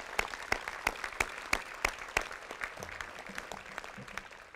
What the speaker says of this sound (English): So I'd like us to give Sergeant Major Love and his family a round of applause as well.